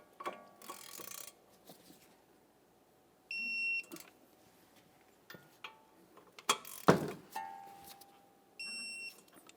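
Torque wrench tightening the brake caliper bolts on a 2014-2019 Toyota Corolla, with quiet, close ratcheting clicks in short bursts and a few sharp metallic clunks in between.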